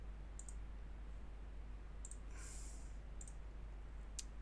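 A computer mouse clicks a handful of times, sharp and close, some as quick doubles, separated by gaps over a steady low electrical hum.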